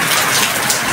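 Heavy typhoon rain pours steadily in Valenzuela, a dense, loud hiss of drops on surfaces with no break, close and continuous, with no voices.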